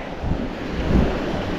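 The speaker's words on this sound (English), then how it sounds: "Mercifully, it's windy out" Wind buffets the microphone in low gusty rumbles on an island beach, with a soft swell near the end and no other distinct sounds.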